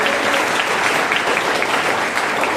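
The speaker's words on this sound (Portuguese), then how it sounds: "Palmas pra Nina!" An audience at a children's church preaching event applauds for a young girl named Nina, steady dense clapping close by, filling the whole moment without a break.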